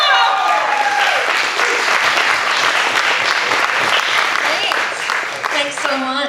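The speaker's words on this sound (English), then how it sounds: "Let's give Joan a big round of applause and bring her out onto the stage, please." An audience breaks into loud, sustained applause as a comedian comes onto the stage, with a voice speaking over the clapping at the start and again near the end.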